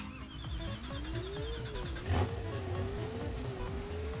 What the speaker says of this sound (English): If I get the Hennessey and drive it now